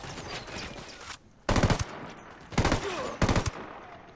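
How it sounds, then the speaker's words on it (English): Automatic gunfire from Ghost Recon Wildlands comes in three sharp rattling bursts, each lasting under a second and separated by quieter ambient game sound. "I love the gunfire in this game."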